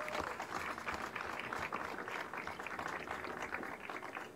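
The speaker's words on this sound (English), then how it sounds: "You can clap for that." An audience at a plaque unveiling for a jazz musician applauds an honoree with dense, sustained clapping at a moderate distance.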